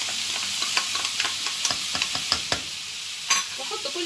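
A spoon scrapes and stirs onion and rice with tomato paste in a sizzling pan, irregular close knocks and scrapes over a steady frying hiss.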